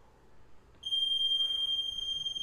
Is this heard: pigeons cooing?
no